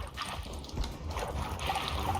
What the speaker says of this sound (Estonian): Miks see vesi nii palju fucking häält teeb?